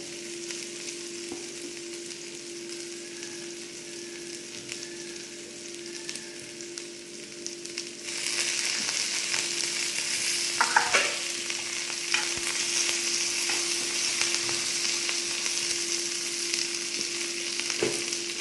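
Onions and chicken curry ingredients sizzle in hot oil in a pan, and curry leaves hit the pan partway through, raising the crackling to a louder, brighter frying hiss with stirring scrapes. No one speaks.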